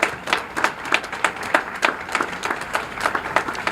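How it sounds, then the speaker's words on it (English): Scattered applause from a crowd at an outdoor teachers' union rally in a public square, with distinct separate claps in an uneven rhythm rather than a dense roar, moderately close and heard alone. "Give yourselves a round of applause."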